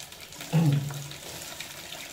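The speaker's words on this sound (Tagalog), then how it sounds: "lagyan natin ng tubig." Water pours into a cooking pot for banana blossom stew in a short gush lasting under a second, fairly close, then trails off into quiet kitchen background.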